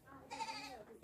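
A goat bleats once, a wavering, drawn-out cry that rises, then ends abruptly. It sounds close by in a backyard animal area in Nepal.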